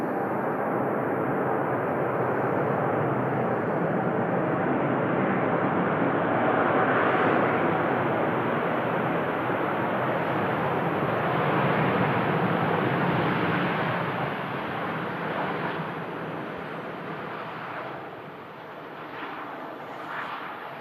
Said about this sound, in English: Touching down after a flight of 6 hours